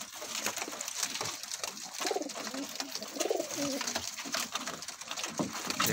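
Soft, low coos of Border pigeons repeat throughout, layered over a noisy, hissy background without any clear speech.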